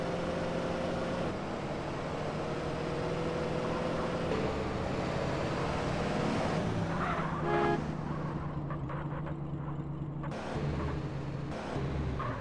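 A car engine runs steadily in GTA San Andreas on PC, a continuous mid-level drone that lasts throughout with small shifts in pitch and no talk over it.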